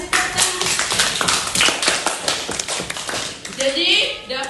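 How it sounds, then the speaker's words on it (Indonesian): Classroom of students clapping hands: a burst of quick, uneven claps and taps, close and fairly loud, with voices talking over them. "Iya, kasih tepuk tangan."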